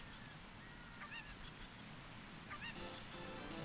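Cucco chicken in The Legend of Zelda: Ocarina of Time, giving two short honking, squawking calls over steady game background noise, faint and clear of any talk.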